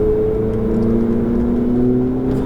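Ferrari 488 GTB engine pulling hard on a race circuit, a loud, steady mid-pitched drone with a rising whine held constant throughout, close and alone without voices.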